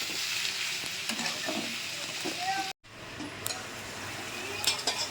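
Spices with coriander powder and dried chili powder frying in a pan, a steady close sizzle with occasional stirring scrapes, briefly cut off midway then resuming under faint background talk.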